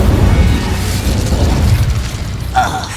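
Explosive spell blasts in the Hogwarts Legacy video game: a loud, sustained rumbling boom that fills the clip, with a sharp bright burst near the end.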